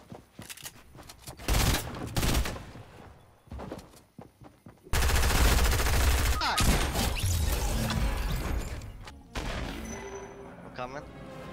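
Bursts of gunfire from a Fortnite tournament match crack out in loud, dense clusters between quieter stretches, with players talking over the action.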